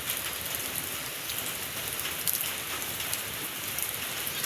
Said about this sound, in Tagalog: Tapos mamaya, titigil na naman sa ulan.